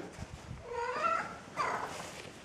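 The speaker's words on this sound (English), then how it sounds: "Even the cat is excited." A house cat meows twice in quick succession, close and fairly soft, with a low purring rumble underneath and no talking.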